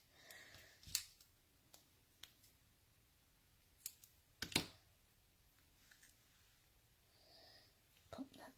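Scissors trimming a paper edge piece for a stamped card project: several quiet, sharp snips spread out over a few seconds, soft and close, with faint rustling between them.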